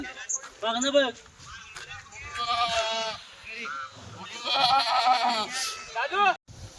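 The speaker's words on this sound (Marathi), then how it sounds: "हे बघा शेळ्या" Kathiawadi goats bleating in a pen on a goat farm, several wavering calls rising and overlapping across the stretch, fairly close, with someone talking over them between cries.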